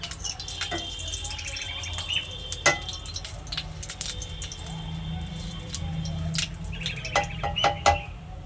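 Whole cumin seeds sputtering in hot oil as they are stirred, a low crackling bed with sharp pops and utensil clinks scattered throughout, close by.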